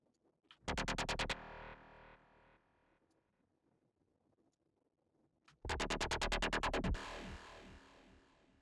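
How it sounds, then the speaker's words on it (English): A Serum psytrance lead synth with filter drive and distortion plays two rapid bursts of repeated staccato notes. Each burst is followed by a long reverb tail that hangs and slowly decays into near silence, with no voice. "we're going to turn on a reverb here"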